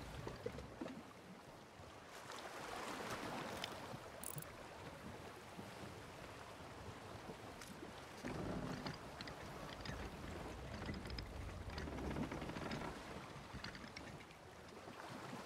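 A ship under sail in Sea of Thieves: steady rushing water and wind along the hull with waves washing around it, a continuous fairly quiet wash and no voices.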